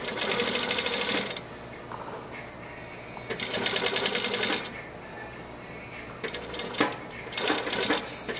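A sewing machine stitches a rib knit band into a V neckline in three loud, close bursts of rapid mechanical whirring, separated by short quieter pauses.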